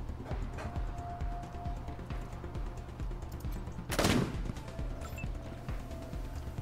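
A single loud sniper rifle shot rings out in Wasteland 3's Colorado Springs, a sharp burst midway through steady game ambience and clopping footsteps.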